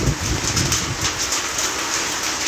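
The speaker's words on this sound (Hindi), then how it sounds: "तेज बारिश लगातार हो रही है, वहीं ओले भी लगातार बरस रहे हैं" Heavy rain with hail pours steadily on a road in Udhampur, a dense, continuous hiss with low rumbling and patter throughout, close and fairly loud, no talking.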